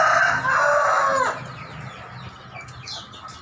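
A Pakoi rooster from Makassar, a long-spurred cock with dry legs, gives a loud, close crow that breaks off after about a second and trails into softer clucking and faint background bird noise.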